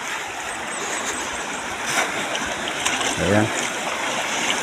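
A river flowing steadily in a rural outdoor spot, a broad continuous wash of water noise with a brief engine-like hum rising partway through and a voice speaking briefly.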